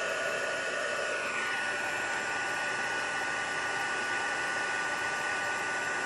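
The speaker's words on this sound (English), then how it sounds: "This heat embossing tool gets super hot." A heat embossing tool for card making blows hot air in a steady, loud, close whoosh that stays constant from start to finish, with no voices.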